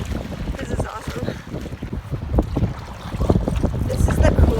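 Wind gusts and waves slap around a paddled canoe on a wilderness lake trip, with rough microphone buffeting, splashing water and irregular knocks throughout.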